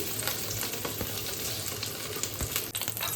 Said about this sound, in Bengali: উল্টে পাল্টে পটলগুলোকে পুরো ভাজতে হবে